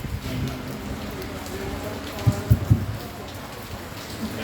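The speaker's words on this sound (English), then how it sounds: "Either way, it's the rain." Steady rain falls across an outdoor gathering where an official is addressing people in Paradise, Region 5, a dense even hiss with a few brief low thumps near the end.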